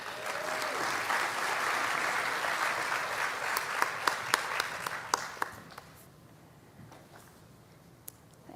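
Audience at a national nursing forum applauding to welcome a speaker, a dense burst of clapping that thins out into scattered claps and fades to near quiet.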